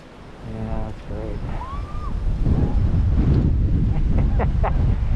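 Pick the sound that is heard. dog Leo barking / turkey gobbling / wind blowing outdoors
wind blowing outdoors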